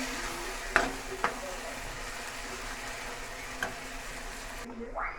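Ridge gourd curry cooks in a pan on a stove over low flame, a soft steady sizzle with a couple of light clinks and a brief scrape near the end, close and without speech.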